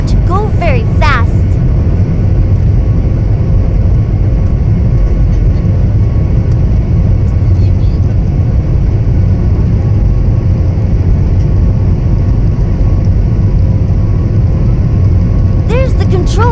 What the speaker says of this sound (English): The airplane is about to go very fast.